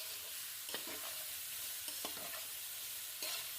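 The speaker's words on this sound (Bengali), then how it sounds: "এগুলো দিয়ে ভালো করে টস করে নেবো, অর্থাৎ ভেজে নেব।" Chopped vegetables for egg pakora tossed in a hot frying pan, producing a steady hiss of sizzling oil with a few scraping stirs of a spatula, close and moderately loud with no speech.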